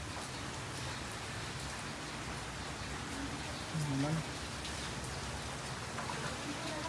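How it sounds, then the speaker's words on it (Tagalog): Steady, dense rain hissing continuously in strong wind during an outdoor run, with a brief murmured word partway through. "Ngayon malakas ang hangin tapos yung ulan tuloy-tuloy."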